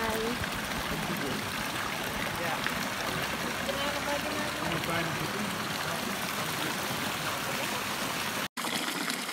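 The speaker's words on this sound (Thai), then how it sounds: "เป็นน้ำพุร้อนจากภูเขาไฟ" Water from a volcanic hot spring in Bali flows and trickles continuously in a steady, close rush, with voices faint in the background.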